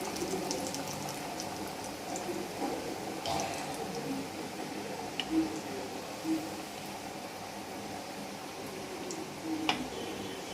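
Samosas frying in hot ghee make a soft, steady sizzle and bubbling with a few light pops and splashes, fairly quiet and close, with no talking over it.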